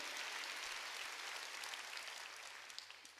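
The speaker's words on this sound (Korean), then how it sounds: "박수로 하나님께 영광을 돌려" A Sunday church congregation claps together in praise during a sermon, a broad, steady wash of many hands that slowly fades toward the end.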